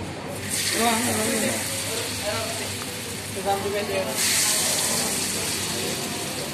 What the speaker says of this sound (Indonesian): Wah, abangnya lagi goreng tempenya nih.